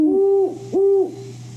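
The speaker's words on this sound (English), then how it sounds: "So great horned owl." A great horned owl hoots twice in deep, steady, resonant calls, loud and close with a short gap between them and no other sounds.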